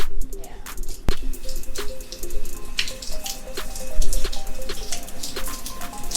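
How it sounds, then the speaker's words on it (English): Rain falling at a waterfront restaurant in Sardinia, a steady patter of scattered drips and splashes close by, with a faint tonal hum running underneath. "it's raining this morning"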